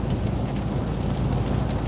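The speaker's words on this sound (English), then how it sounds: "Oh, it's raining again. Can you guys hear the raindrops?" Raindrops fall on a truck cab during a road trip, a steady, dense patter with no talking.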